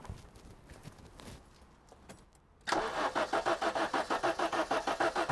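An Audi Grand Sport GT engine cranking on the starter after being fueled, a loud rapid rhythmic churn that starts abruptly midway after a quieter stretch and repeats steadily without catching.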